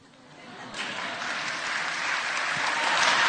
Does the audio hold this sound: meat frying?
no